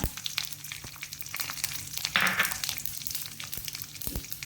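Cumin seeds sizzle in hot oil for a spinach and green gram sukka, a soft steady crackle with a brief louder hiss midway.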